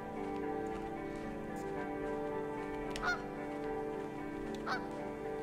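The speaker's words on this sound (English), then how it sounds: "I think it's just a seagull, actually." A seagull calls in a video game, giving two short squawks a couple of seconds apart over a steady ambient drone.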